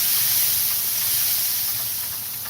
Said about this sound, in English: Spritz that steak a little bit.